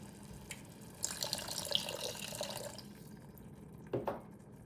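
Water splashes and trickles into a pot of curry in short quiet bursts, with a gentle pouring stream and a brief splash near the end, faint and close.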